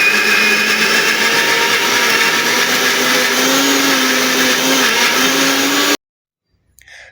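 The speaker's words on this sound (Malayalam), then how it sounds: "നന്നായിട്ട് അരച്ചെടുക്കുന്നുണ്ട് കേട്ടോ കുറച്ച് കുറച്ചായിട്ട് വെള്ളം ചേർത്ത് കൊടുത്ത് അരച്ചെടുക്കുന്നുണ്ട്" A mixer grinder runs steadily and loudly for about six seconds, grinding masala for a prawn curry with water added a little at a time, then cuts off abruptly into near silence.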